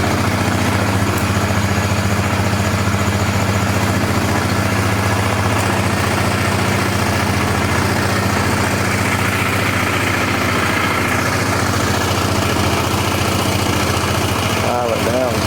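A flood-damaged Polaris 325 ATV engine runs steadily and rattles, a loud continuous drone with a rough mechanical clatter that holds throughout.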